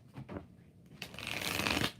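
Tarot cards are riffled and shuffled in a quick, close flurry, a few soft taps followed by a longer crisp riffle.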